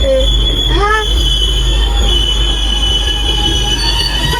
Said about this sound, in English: This is not the train we ordered.